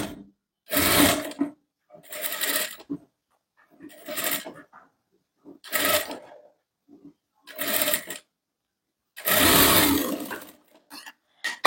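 A sewing machine double-stitches boatneck blouse fabric in about six loud, close bursts of rapid whirring, each lasting roughly a second, separated by quiet pauses and faint handling sounds.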